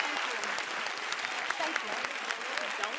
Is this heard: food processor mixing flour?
no